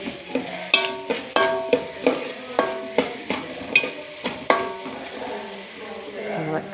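Macaroni masala being stirred in a pan, a spoon scraping the pan in a steady rhythm of distinct clinks and scrapes with a light sizzle beneath, close and fairly clear, no talking.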